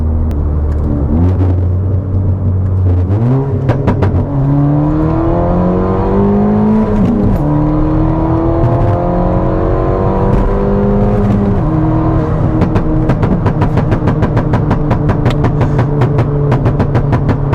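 A loud Stage 2+ tuned 255 hp Ford Fiesta ST engine revs up and down through rising gear-like sweeps, its exhaust rumbling and crackling with sharp pops toward the end.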